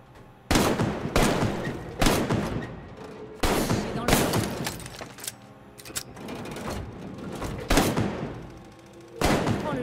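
Weapon fire in the shooter game Arktika.1, loud bursts of gunshots in rapid clusters separated by brief gaps, sharp and close, repeating across the whole stretch with no talking over it.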